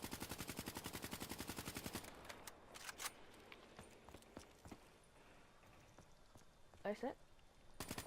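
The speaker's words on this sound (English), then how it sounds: "So this is the recoil pattern. We're gonna do hip fire and aim down sights." KN44 assault rifle from Call of Duty Black Ops III firing in a rapid sustained burst for about two seconds, then sparse single shots and game effects, with someone talking briefly over the action.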